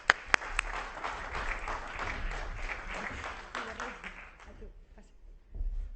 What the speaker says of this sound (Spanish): Un aplauso para Toni Gaspar.